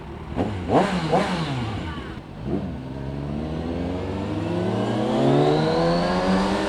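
A Kawasaki Ninja 1000SX motorcycle engine revs sharply in a few quick throttle blips, then pulls away with a rising, sustained acceleration whine, loud and close.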